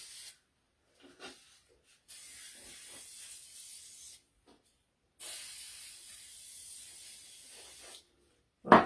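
A spray can hisses in two long, steady bursts at close range while gingerbread men cookies are being decorated, separated by short pauses, with no talking.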